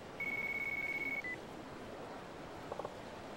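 An incoming phone call rings in the video game Yakuza 4: a single steady electronic tone holds for about a second, then a brief blip follows. A few faint chirps come later over quiet background hiss.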